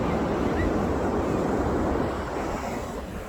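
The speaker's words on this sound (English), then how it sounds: "Oh my God, I just gotta show you these waves." Large ocean waves crash onto the shore in a steady, loud roar of surf, with wind buffeting the microphone and no speech over it.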